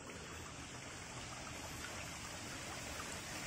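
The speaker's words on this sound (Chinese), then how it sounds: "先听到水声，今天第一次过溪" A mountain stream flows beside a bamboo-lined hiking trail on the Dakeling trail in Taiwan, giving a steady, soft rushing of water with no pauses and no voices.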